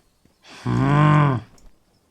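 A pig creature in the video game Palworld lets out a single loud, drawn-out grunting call lasting under a second, alone with no talk.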